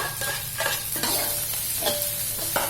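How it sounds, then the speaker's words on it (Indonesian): Shallots, garlic and soup leaves stir-fried in a hot pan, a loud continuous sizzle broken by rhythmic spatula scrapes and stirring every second or so, close and without any voices. "tumis sampai harum"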